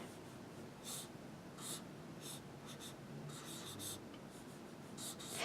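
A pen nib scratches across paper in faint, close strokes that come in short, irregular bursts over quiet breathing and room hiss.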